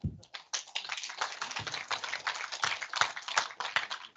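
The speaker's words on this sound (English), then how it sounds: "Please let us give the presenters a very hearty clap" A conference audience at an annual meeting claps for the presenters, a dense, steady patter of many hands close by that swells and holds for several seconds.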